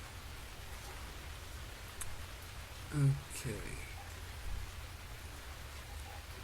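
Steady rain in the survival game Stranded Deep, a continuous soft hiss that holds evenly throughout, with a brief spoken word and a small bump of movement near the middle.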